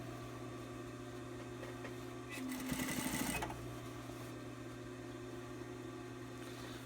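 A sewing machine top stitching a fabric panel for a six-panel piece, with a short, louder burst of stitching lasting about a second over a steady background hum.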